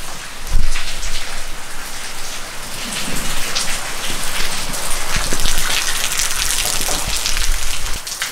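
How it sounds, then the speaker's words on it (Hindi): Heavy rain pours steadily over foggy hills at Pethsain in Pauri, Uttarakhand, a dense, constant hiss of drops on surfaces with a few louder patters and no voices. "बारिश तो बंद हो नहीं रही है, बारिश लगी रही है बिल्कुल, बारिश भी चली रही है।"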